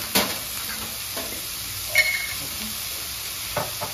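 Onion, garlic and cloves frying in a pan, heard as a steady soft sizzle and hiss with a few scattered stirring clinks and scrapes close by.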